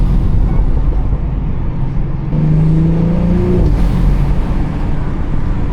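A BMW X3 M40i engine revs with a loud intake, a close, heavy drone that climbs into a stronger tonal surge in the middle before settling back.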